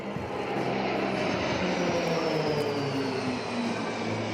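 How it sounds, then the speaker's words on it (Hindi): Israeli Air Force aircraft performing at an air show, including fighter jets such as the F-16, roar overhead in a steady, loud engine drone with a slowly sliding pitch as they pass. No talk. "विमानों के बाद इजरायल के फाइटर जेट्स ने धमाल दिखाया"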